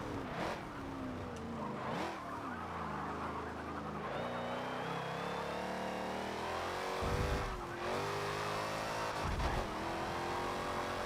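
Ferrari race car in Forza Motorsport 7 online A-class racing, engine revving and shifting through gears with rising and falling pitch, sharp tire squeals and skids, loud and continuous throughout.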